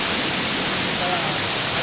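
Waterfall on a hiking trail, a loud, steady, broadband rush of falling water that fills the whole clip without a break.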